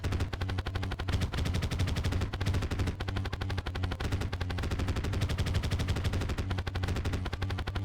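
The Last Prism weapon firing in Terraria, a dense continuous stream of rapid, evenly spaced zapping pulses that stays loud and unbroken throughout, with no talking.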